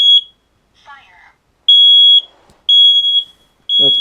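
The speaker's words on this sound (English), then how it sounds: "At least the smoke alarm works." A smoke alarm sounds in loud, piercing high beeps, each about half a second long and repeating roughly once a second, set off by a burning smell, with a voice speaking briefly between beeps.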